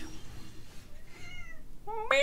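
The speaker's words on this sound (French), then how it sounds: "Un petit chat." Small cat meowing indoors, a few soft high mews building to a louder, clearer meow at the end, close by with faint room noise beneath.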